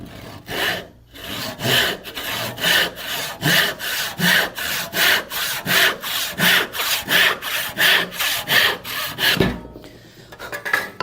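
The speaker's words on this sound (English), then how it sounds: "What I'm grabbing here is a crosscut saw. It's a 14 pointer, and I'm just going to cut to one side of the line here." A 14-point crosscut hand saw cutting through wood at a 45-degree angle, with around twenty rhythmic rasping back-and-forth strokes, close and loud, before a brief pause and a final knock.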